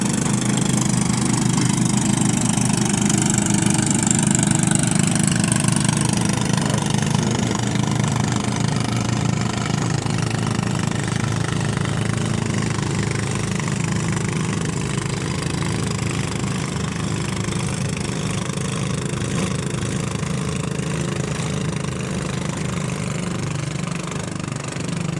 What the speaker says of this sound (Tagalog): Medyo maingay dito kasi maraming dumadaan ng mga bangka.